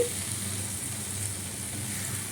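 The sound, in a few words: fried lentil dumplings (bori) added and sizzling in curry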